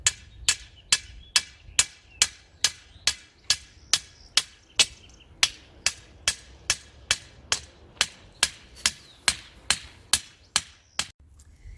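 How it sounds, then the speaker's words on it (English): Sharp metallic hammer strikes ring out as rebar is driven into the ground for a garden trellis, in a steady, evenly spaced rhythm, about two per second, loud and close, with no talking. "we're going to hammer this about 2 feet into the ground"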